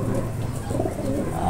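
Racing pigeons cooing in a loft, soft repeated low coos layered close together, continuous and moderately near, with faint background voices.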